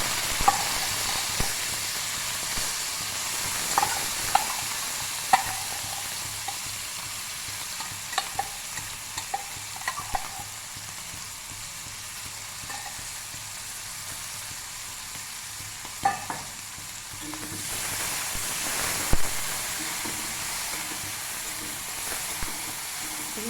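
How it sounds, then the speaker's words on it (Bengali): Shrimp coated in salt and turmeric frying in hot oil for a home-style Bengali dish: a steady broadband sizzle with scattered pops and spatters, swelling louder near the end, alone without talk. "তেলটা গরম হয়ে গেছে, এবার দিয়ে দেব চিংড়ি মাছ"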